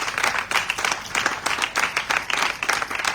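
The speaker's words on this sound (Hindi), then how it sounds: "आइए तालियां बजाइए उस यीशु मसीह के लिए।" A church congregation claps for Jesus at a worship service, with steady, dense applause that swells in rhythmic waves throughout and no speech over it.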